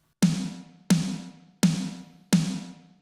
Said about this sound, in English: I'm using the Savage snare, Billy Decker's Savage snare